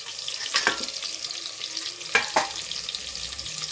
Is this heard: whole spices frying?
yes